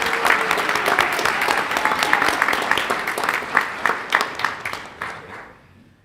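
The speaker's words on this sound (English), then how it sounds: "Let's give Cade a round of applause, please." Applause from a crowd at a school board meeting fills the room, steady and dense at first, then thinning into scattered claps before fading out.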